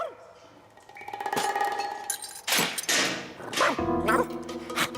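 A dog barks in a Garfield cartoon, with several loud, close barks spaced out across a few seconds amid other cartoon sound effects.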